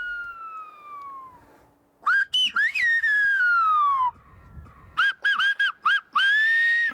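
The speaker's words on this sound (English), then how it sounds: "However, fewer and fewer people use the whistling language." Loud, clear whistling in gliding, pitch-bending tones from the Canary Islands whistled language, long descending calls followed by a run of short, rapid chirping whistles, like a whistled message.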